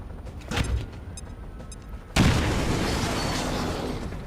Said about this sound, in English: fire that grenade